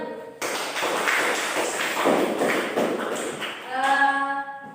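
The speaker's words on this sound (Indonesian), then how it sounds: "Oke, tepuk tangan dulu." A class of students claps hands on cue, a dense burst of applause that starts abruptly, holds steady for a few seconds, then fades out as a tonal sound comes in near the end.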